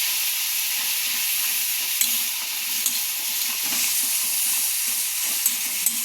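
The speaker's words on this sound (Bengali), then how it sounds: "দিয়ে মশলাটাকে ভাজা ভাজা হতে দিতে হবে।" Masala with turmeric and salt sizzles steadily in oil for tel koi fish curry while a spatula stirs it, adding light scrapes and occasional sharp clinks over the constant frying hiss.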